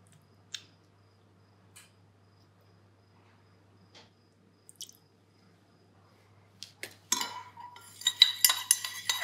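Melted wax and oils, with a little isopropyl myristate, stirred in a container for solid musk cubes. Faint scattered clicks lead into a busy stretch of close scraping and clinking at the end.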